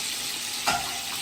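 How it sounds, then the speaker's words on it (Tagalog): Food sautéing in a pan over a home kitchen stove gives a steady, soft sizzle with a brief swell midway, as if the pan is stirred. "Ba, nagigisa na si Cesar ngayon"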